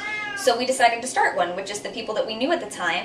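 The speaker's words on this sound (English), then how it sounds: "that's my cat that you're hearing" A cat meows and whines, plaintive and fairly close, audible underneath a person speaking continuously throughout.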